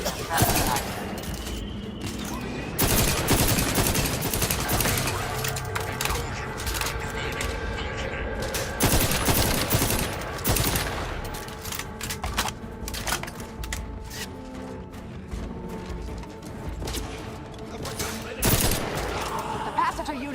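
Rapid bursts of video game gunfire crackle almost continuously, with dense overlapping shots, while game voices and dialogue run over the top.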